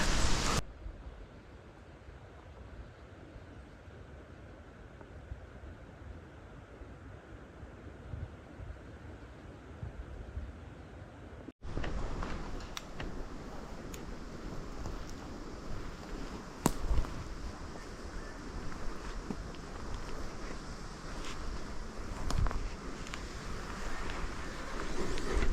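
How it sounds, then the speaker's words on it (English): Outdoor wind buffeting a microphone while hunting for bucks, a steady broadband rush throughout that grows louder and gustier in the second half, with occasional thumps and no speech. "Yeah, good this wind."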